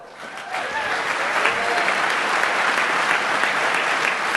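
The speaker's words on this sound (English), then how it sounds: "A big applause for them" Crowd applause at the DEF CON 22 hacker convention closing ceremony, swelling quickly into dense sustained clapping with a few faint shouts and whistles over it.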